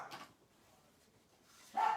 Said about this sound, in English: My guard dogs are on duty and they heard something.